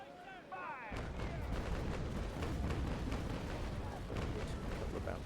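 Stone guns on a sailing warship in a naval video game fire a broadside: a rapid run of booming cannon shots rolls on for several seconds, loud and dense, after a brief moment of quieter game sound.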